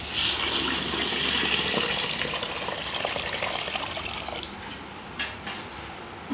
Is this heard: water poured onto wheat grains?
yes